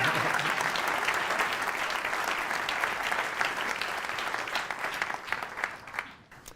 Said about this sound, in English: that's worth a clap for sure